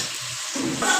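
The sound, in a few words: water poured into vegetable stem curry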